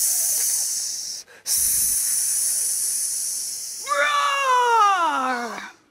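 A voice imitates a snake's hiss with a long, steady, breathy hiss lasting several seconds, briefly broken by a pause, followed by a rising and falling voiced cry at the end.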